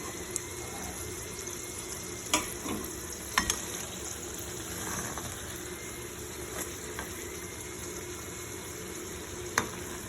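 Samosas and puff pastry snacks deep frying in oil bubble and hiss steadily with soft crackle, broken by a few sharp clicks and taps, and nobody speaks.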